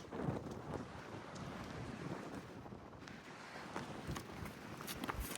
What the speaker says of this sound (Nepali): हावा